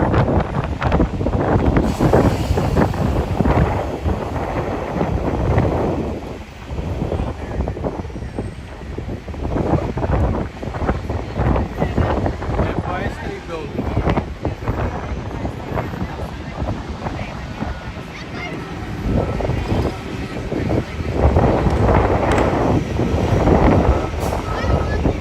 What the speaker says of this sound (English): Sure y'all can hear all of that wind.